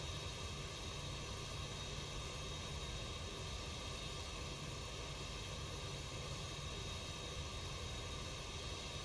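Zibo Boeing 737-800 jet engines in the X-Plane 12 flight simulator, a steady broadband roar with a faint whine, constant and unchanging throughout, heard alone without voices.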